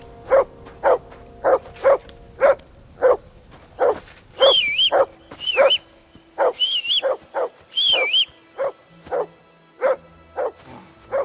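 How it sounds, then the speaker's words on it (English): Dog barking repeatedly in Kingdom Come Deliverance II, a steady run of sharp, close barks spaced about half a second apart, with a few higher whining yelps mixed in partway through. "For Christ's sake, Henry, call off that damn dog before he wolfs down the last of our mates"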